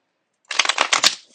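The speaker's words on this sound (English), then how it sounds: "So let me get a couple shuffles in." Tarot cards being shuffled up close, a short burst of papery riffling and flicking after a moment of silence, lasting under a second.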